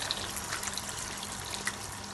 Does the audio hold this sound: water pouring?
yes